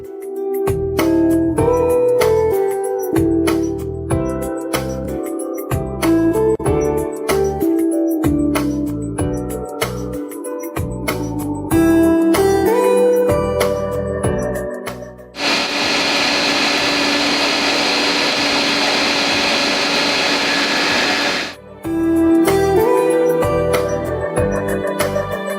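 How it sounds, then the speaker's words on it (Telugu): A kitchen mixer grinder whirs steadily as it grinds onions, tomatoes and grated coconut with a little water into a kurma paste. The loud, even motor drone runs uninterrupted for several seconds, with clattering kitchen noise before and after it. "ఇది మనం మిక్సీ పట్టేసుకుందాం."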